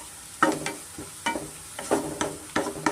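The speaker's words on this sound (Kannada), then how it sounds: "ಈರುಳ್ಳಿ ಇಷ್ಟು ಫ್ರೈ ಆದರೆ ನಮಗೆ ಸಾಕು" Onions fry with salt in a pan, a steady close sizzle broken by several rhythmic scraping stirs of a spatula.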